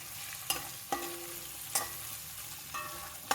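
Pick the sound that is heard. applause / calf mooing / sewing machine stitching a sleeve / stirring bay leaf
stirring bay leaf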